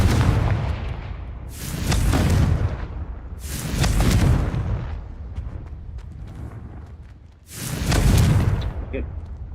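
Confringo fire spell cast in Hogwarts Legacy, three heavy fiery blasts spaced a few seconds apart, each a loud booming burst that rolls off into a crackling rumble, with game ambience in between.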